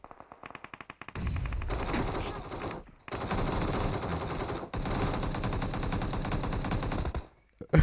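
Automatic weapons fire in PUBG Mobile: a quick string of close shots, then long sustained bursts of rattling fire broken by brief pauses, with a sharp crack at the very end.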